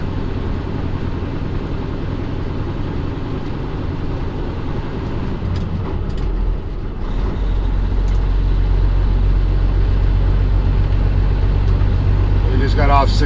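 Steady road roar of a car cruising on a highway toward the sunrise, a constant low rumble that swells slightly louder partway through, with a voice talking over it.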